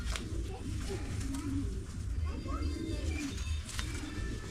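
Soft, low cooing of pigeons repeating at intervals under a voice speaking, with faint background hum throughout.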